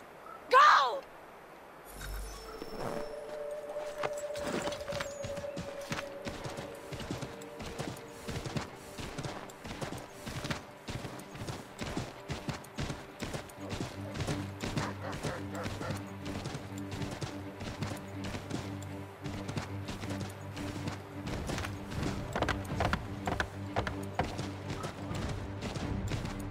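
Galloping horse hooves in Assassin's Creed 3 Remastered, steady rhythmic clip-clop over most of the stretch, with game dialogue and ambient sounds alongside.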